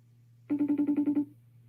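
A FaceTime call rings on a phone with a short run of about eight rapid, evenly pulsed electronic tones that stops abruptly over a low steady hum.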